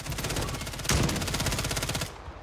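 Rapid bursts of automatic gunfire from a KAR in a video game rattle continuously for about two seconds, loud and close, then cut off abruptly.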